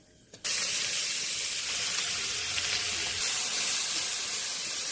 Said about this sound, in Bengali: ঘি তেজপাতা দিলাম, এলাচ নামালাম,